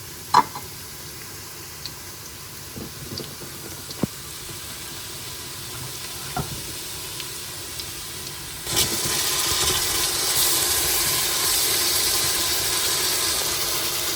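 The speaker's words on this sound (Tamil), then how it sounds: "இனித்தான் நான் இதுக்குள்ளே வந்து இஞ்சி பேஸ்ட் போட போகிறேன்" Ginger paste added to hot oil and browned onions for mutton biryani, a few faint clinks followed by a sudden broad sizzle that holds steady and fairly loud.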